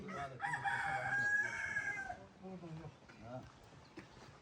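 A rooster crows once, fairly close and clear, in a rural village, followed by a person speaking briefly as quieter village sounds continue.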